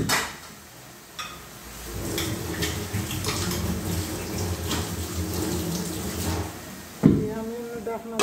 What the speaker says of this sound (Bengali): আমি ডাকনা ধুয়ে দিব